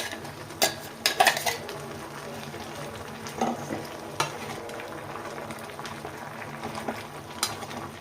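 A chicken curry fries in a pan as a paste of cashews, almonds and garlic is stirred in, with a steady close sizzle broken by several sharp clinks and scrapes of a spoon against the metal pot.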